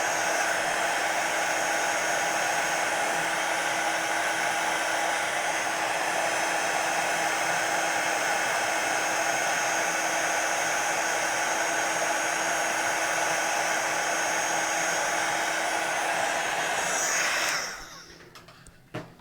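A heat gun blows continuously and loudly at close range while melting embossing powder on a small stamped watercolor card, then cuts off abruptly near the end.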